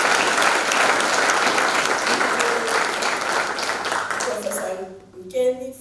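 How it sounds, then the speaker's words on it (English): Audience applause at a university professorial inauguration ceremony, a dense sustained clapping from a large crowd that fades near the end as a voice begins speaking over the last moments. "Can we applaud?"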